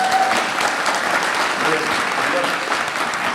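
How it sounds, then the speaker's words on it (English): A big round of audience applause for Spencer Welding, a loud, continuous wash of clapping that stays level throughout with no voices standing out. "big round of applause, please, for Spencer Welding."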